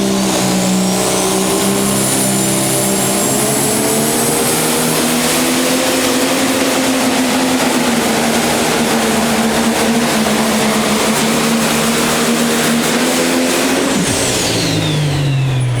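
A pro stock tractor engine roars loud and sustained through a pull at the Scheid Diesel Extravaganza, its deep droning pitch holding steady and then dropping off near the end.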